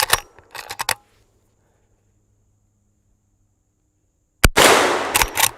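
A lever action rifle chambered in .44 Magnum fires at targets outdoors, a sharp close crack at the end after near silence, preceded at the start by quick metallic clicks of the lever action.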